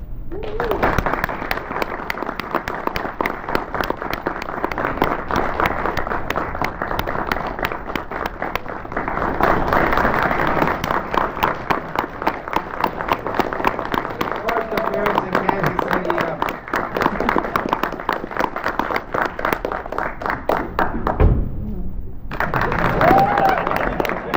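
Audience applause for comic artist Jim Steranko at a Planet Comicon 2017 panel, sustained dense clapping from a crowd that fills the room, fading near the end into a voice speaking.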